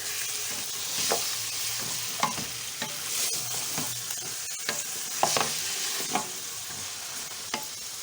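Meat for Delhi-style nalli nihari fries in a pan with a low steady sizzle. A spoon repeatedly scrapes and clinks against the pan as it is stirred at irregular intervals, and no voice is heard.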